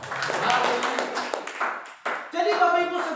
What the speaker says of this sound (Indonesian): Tepuk tangan dulu bagi Tuhan.